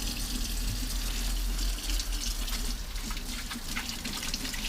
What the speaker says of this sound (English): I'm going to wash my hands fully and make sure nothing falls down the drain